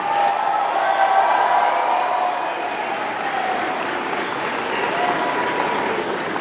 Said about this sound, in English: invite the members of the graduating class to reciprocate by applauding your family, your friends, the faculty and staff